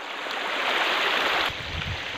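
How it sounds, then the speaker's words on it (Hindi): A clear, clean stream in Namdapha National Park, Arunachal Pradesh, rushes steadily in a broad, even wash of water noise up close, with no voices. "ये एक नाला है और कितना साफ पानी है, बिल्कुल नीट एंड क्लीन।"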